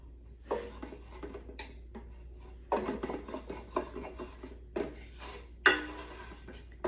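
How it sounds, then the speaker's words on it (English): Spoon scraping the bottom of a hot pan while deglazing a sauce for scallops: intermittent rough scraping strokes, fairly quiet and close, with a low steady hum underneath. "Take my spoon, scrape it up."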